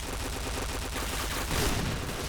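Continuous rapid gunfire from a water pistol weapon in the Point Blank video game, a dense steady burst of shots throughout with a slightly louder flurry near the end, no talking over it.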